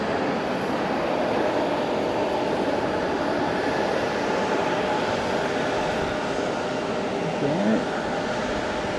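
E-Star aircraft landing at Fukuoka Airport, a steady broadband jet roar with a faint low whine, holding even and moderately loud throughout without clear voices.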